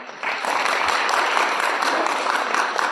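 Audience applause for a group of fifth-grade students after their opening performance at an elementary school research-school closing ceremony, steady dense clapping from a crowd that holds loudly through the whole stretch.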